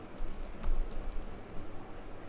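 Computer keyboard typing CSS code, a quick run of light clicking keystrokes at close range, moderately loud and steady with no talk.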